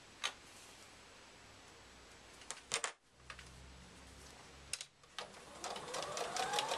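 A sewing machine runs top stitching around the edge of a reversible handbag, giving short bursts of rapid stitching separated by pauses, close by and fairly quiet, with the running sound building toward the end.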